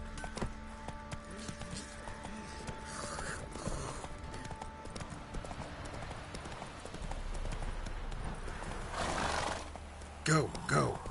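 Hooves of the horse Roach clip-clop at a steady galloping rhythm in a video game, with occasional whinnies and snorts, under game music, speech and a burst of louder action near the end.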